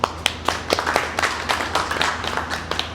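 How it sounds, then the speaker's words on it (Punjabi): A group of people clapping at a Sonalika tractor dealership awards gathering, a brisk irregular run of handclaps throughout, fairly close and loud. "ਇਸ ਲਈ ਤਾੜੀਆਂ"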